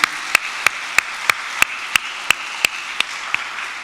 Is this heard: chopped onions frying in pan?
no